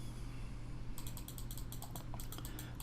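Repeated key taps on a computer keyboard's up arrow, a quick run of light clicks starting after a second, close and clear over a steady low hum.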